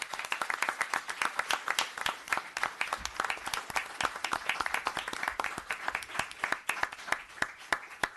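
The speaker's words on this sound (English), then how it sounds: "can I get a round of applause for the Yorktown Police Department Color Guard this evening?" A town board meeting room gives a round of applause for a police color guard, many hands clapping in a quick, crisp, uneven patter that runs steadily for several seconds.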